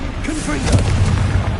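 A Confringo fire spell bursts in Hogwarts Legacy gameplay, a loud booming blast with a low rumbling tail under the continuous game soundscape.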